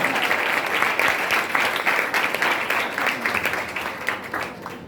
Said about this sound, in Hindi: जोरदार तालियां खुदावंद के लिए बजाएंगे।